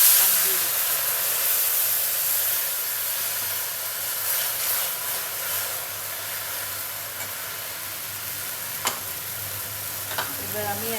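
Onions fry in a pan in a steady, loud sizzle with hissing steam, broken by a few faint stirring clinks toward the end.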